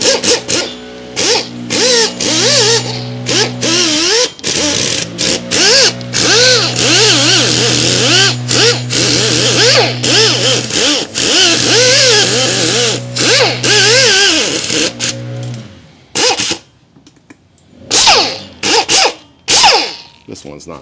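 A 3M rust removal disc on a power tool whirs steadily against a brake hub on a 2015 Jeep Grand Cherokee WK2, running in a few long loud stretches broken by brief pauses, then stopping before some closing clatter.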